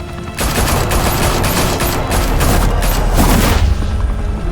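Heavy gunfire in a Batman video game set in Gotham, a dense loud burst of rapid automatic shots and booms rolling continuously for several seconds with no talk.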